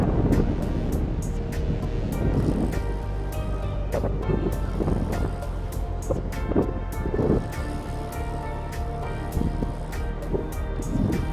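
Sea waves washing onto the shore at Mar Chiquita, a steady broadband rush with gusts of wind buffeting the microphone, plus scattered clicks and faint distant voices.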